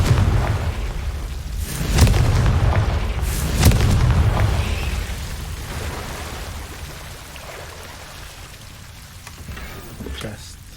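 Confringo explosion spells from Hogwarts Legacy go off as two heavy booms about two seconds apart. Each is followed by crackling, rain-like debris that fades into quieter ambience, with a softer burst near the end.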